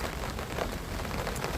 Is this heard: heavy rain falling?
yes